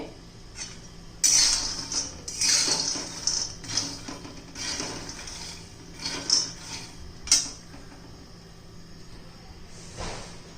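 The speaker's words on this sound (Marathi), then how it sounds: "अजून पाच एक मिनटं भाजून घेऊया मंद गॅसवर छान भाजून घ्यायचे" Peanuts roasting in a pan over low gas, stirred with scraping clinks and dry rattling strokes that come in irregular bursts, louder at first and thinning toward the end.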